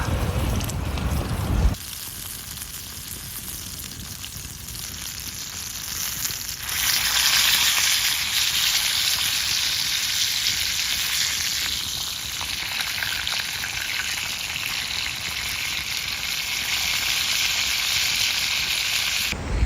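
Food cooking over a wood campfire on a rat-trap rotisserie while camping gives a steady broad sizzling hiss with soft crackle, close and continuous for the whole stretch, with no talking.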